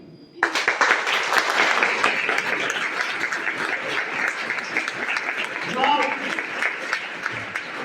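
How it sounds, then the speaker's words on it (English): A crowd breaks into sustained applause that stays loud and steady for several seconds. A few voices carry faintly beneath the clapping. "give you all a huge round of applause on this auspicious day"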